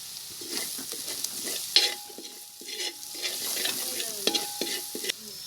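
Spices for Kerala-style chicken curry sizzle in hot oil in a pan while a spoon scrapes and stirs them, with close, repeated scraping strokes over a continuous frying hiss.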